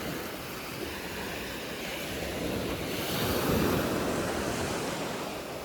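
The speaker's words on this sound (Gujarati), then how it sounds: "જોયું પાણી હજુ આગળ જ આવતું જાય છે." Sea waves wash up on a beach at Dwarka, a continuous broadband surf roar with wind buffeting the microphone, swelling louder midway and then easing, with no voices.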